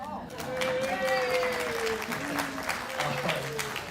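An audience applauds at the end of a trivia talk, a steady wash of clapping that holds for the whole stretch, with voices and some tonal cheering mixed in.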